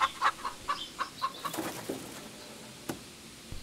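Chickens cluck on a farm in a quick run of short, bright calls that thin out into sparse, scattered clucks and a few sharp knocks, fairly close and with no one speaking.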